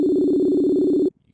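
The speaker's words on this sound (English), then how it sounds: "You guys hear it's ringing." An electronic phone ringtone sounding during a call, a steady buzzing ring tone held for about a second, close and fairly loud, that then cuts off abruptly into near silence.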